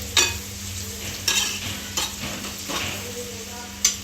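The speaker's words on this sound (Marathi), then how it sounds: "परतून घेऊ छान तेलात. पूर्ण मसाला लागला पाहिजे सगळ्या भाज्यांना." Vegetables sautéing in hot oil with spices for a veg biryani, a steady sizzle broken by a few sharp spoon scrapes and stirs against the pot, close and alone without any talk.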